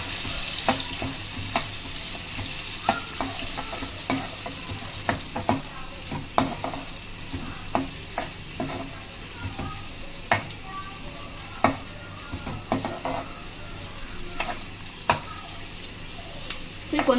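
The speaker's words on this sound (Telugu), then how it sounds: "కొంచెం ఒక 1 మినిట్ ఫ్రై చేసుకుందాం." Chicken 65 with green chillies and garlic sizzles steadily in a pan, with repeated close scraping stirs punctuating the constant frying hiss.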